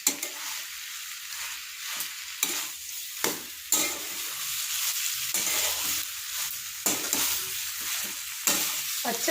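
Amla pickle roasting in a pan, with a continuous dry sizzle and repeated scraping stirs at a steady rhythm, close and moderately loud, no voices.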